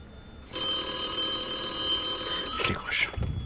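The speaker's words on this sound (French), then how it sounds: "Tu reçois un appel, William." A telephone rings in an office during a tabletop role-playing session, a steady electronic ringing tone that starts abruptly and holds for about two seconds before voices come in at the end.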